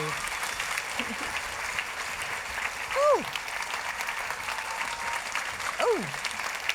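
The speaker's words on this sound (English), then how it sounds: "we're going to take it all the way up to a giant's clap." Audience at a book festival event claps in a steady, moderate wash, while a voice rises in a couple of brief whooping calls over the applause.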